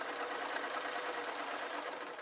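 A sewing machine stitches down the side of a cloth ragdoll, a continuous, even, fairly quiet whirring hum that holds steady without pause.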